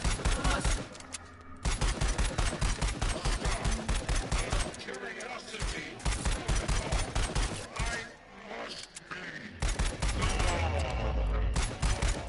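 Rapid gunfire fills the Raw Data video game: dense, loud volleys of shots in sustained bursts with brief pauses, continuing nearly throughout.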